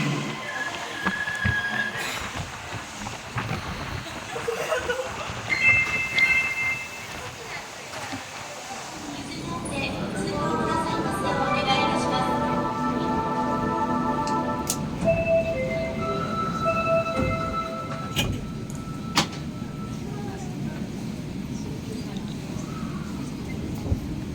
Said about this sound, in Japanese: The train on platform 2 is bound for Hiroshima via Bentencho.